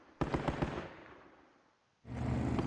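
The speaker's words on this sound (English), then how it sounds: "Incoming rounds here. Medium mortars." Medium mortar rounds exploding in a war video game: a burst of several sharp blasts in quick succession, then a fading rumble and a pause before another loud explosive roar begins.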